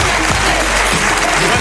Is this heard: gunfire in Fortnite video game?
no